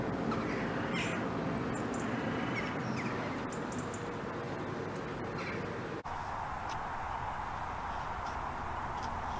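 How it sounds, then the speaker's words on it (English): Crows caw in the open countryside beside a hedgerow, short calls scattered over a constant broadband rush like wind or distant traffic. "There's no shortage of crows on this permission"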